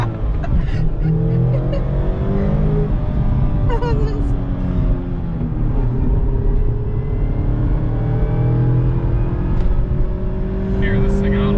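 A 2021 Mazda MX-5 Miata engine with a manual gearbox revs and pulls hard, a loud steady drone with rising and falling pitch sweeps and tire noise, heard from inside the car, with people talking over it.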